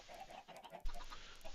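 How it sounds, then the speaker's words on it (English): Chickens cluck in a Minecraft world, a few short game fowl calls at moderate level over a low ambient bed, with a soft thump partway through. "there's a bunch of chickens up there laying eggs"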